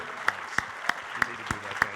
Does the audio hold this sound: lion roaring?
no